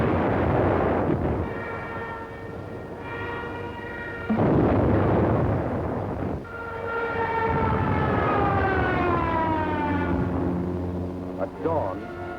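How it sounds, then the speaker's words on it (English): Bombs explode during a wartime air raid, several loud booming blasts mixed with wailing, siren-like tones that rise and fall. A narrator speaks over the sound. "German bombs told the Yugoslavians they were at war with Germany"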